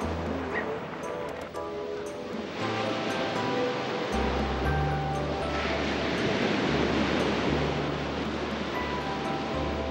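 Water waves washing and surging steadily, a broad rushing wash that swells louder partway through, with a low rumble beneath.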